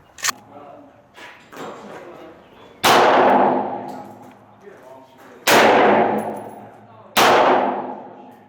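A pump-action shotgun is fired at a target on an outdoor sheriff's firing range, three loud booming shots ringing out well apart, with quieter clanks and clicks of handling between them.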